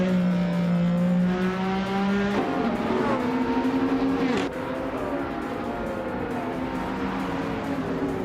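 Race cars roar past one another in a racing video game, engines holding a steady whine and then shifting pitch sharply as they overtake, loud and close throughout, with no talk.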